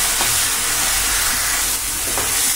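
Ginger garlic paste sautés in a hot pan for a rajma paneer gravy, giving a steady, close hiss of frying that fills the whole moment with no voices.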